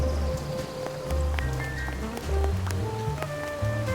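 Steady rain falls in the video game Duck Detective: The Secret Salami, a continuous wet patter on surfaces under soft game music, with no talk.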